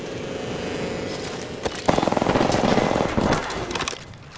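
Gunfire in the shooter Apex Legends: a steady hum gives way to rapid, close automatic bursts that rattle on for a couple of seconds and then thin out.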